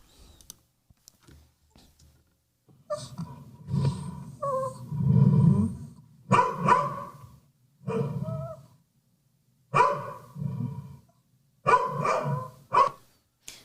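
Several pet dogs bark in repeated bursts and clusters, fairly close, separated by brief quiet gaps, with faint clicking at the start.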